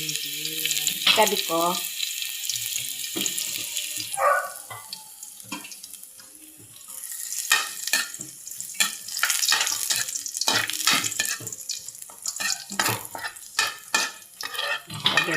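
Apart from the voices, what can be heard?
garlic frying and being stirred in a pan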